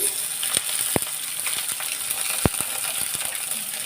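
Brinjal and beans dropped into hot oil sizzle loudly and close, a constant hiss broken by a few sharp clinks and splashes as pieces hit the pan, with no talking.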